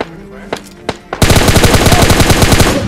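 In the mobile shooter PUBG Lite, a few separate gunshots are followed by a loud, sustained burst of rapid automatic machine gun fire with evenly spaced rounds.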